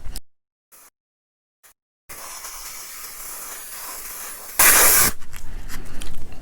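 An aerosol can sprays paint onto a Tamiya TT-01 Type E RC car part, a steady close hiss with a louder burst, following brief silence.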